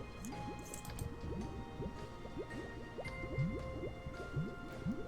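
Liquid potion whisked around in a potion-brewing video game, a steady stream of soft squishy drips and bubbly sloshes in quick succession, fairly quiet with no talk.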